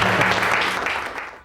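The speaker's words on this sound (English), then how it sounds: "Give yourselves a round of applause." A group in a shared schoolhouse home gives a short, dense burst of clapping, loud and close, steady through most of the moment before tapering off at the end.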